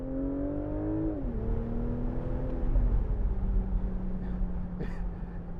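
A 2019 BMW Z4 M40i engine pulls hard after a downshift of a couple of gears, its rising then steady drone loud and close throughout, with a brief whoosh near the end.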